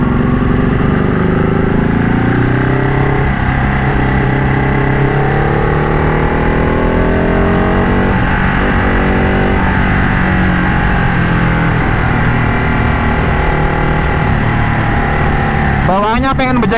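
Modified 2012 Ducati Panigale 1199 Tricolore on a ride, its engine loud and close, revving with rising and falling tones over the whole stretch, and someone talking over it.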